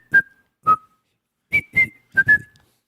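A person whistles short, clear tones in three pairs of notes with pauses between, close and alone.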